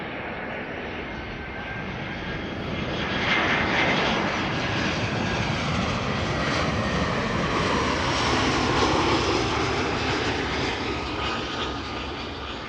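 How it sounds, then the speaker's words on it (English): A Delta Airlines Airbus A330neo jet arrives from Seattle, its engines producing a broad, steady roar that swells and lingers as it passes at a distance. "next after this is going to be Delta Airlines at 144, arriving from Seattle, Washington."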